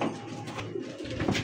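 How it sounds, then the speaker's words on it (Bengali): Pigeons of fancy breeds, such as Satin, Danish and Bombay, coo at a pigeon market: a short burst of soft, low, throaty cooing, close and fairly clear against a light background murmur. "দেখেন কবুতর দেখেন"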